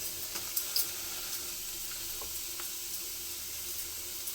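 Dried red chillies fry in hot oil as a tempering for sprouted-gram sambar, a steady faint sizzle with a few small pops and clinks near the start.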